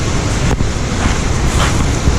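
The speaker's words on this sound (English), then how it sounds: "Look at the power of the sea" Sea waves surging and breaking at Steephill Cove on the Isle of Wight, a loud, continuous wash of surf mixed with heavy wind buffeting the microphone, no voices.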